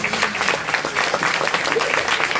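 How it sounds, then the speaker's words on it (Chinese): An audience at a Cantonese business presentation claps in steady, dense applause that holds at an even level from start to finish, close and lively, with a faint trace of voices underneath. "给个掌声你的朋友。"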